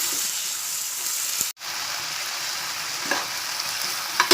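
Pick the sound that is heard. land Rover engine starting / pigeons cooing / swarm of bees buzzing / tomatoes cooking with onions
tomatoes cooking with onions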